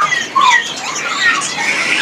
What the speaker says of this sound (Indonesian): Ini burung udah gacor